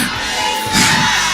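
A church congregation at a French-speaking service shouts and cheers together in a loud, brief swell of raised voices that surges louder midway through.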